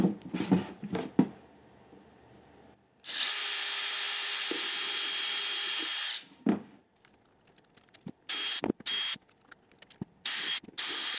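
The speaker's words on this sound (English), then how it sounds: "So that was the 1/8 inch drill bit" A drill bores a small 1/8 inch pilot hole while a filament dry box storage system for a 3D printer is being built, a steady loud whir of about three seconds followed by scattered short handling clicks and knocks.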